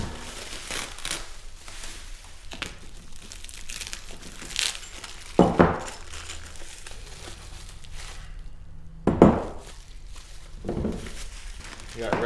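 Packaged ATV parts for a 400EX being unwrapped, crinkly plastic wrap rustling and tearing in scattered bursts, with a few louder crunches and a quiet stretch in between.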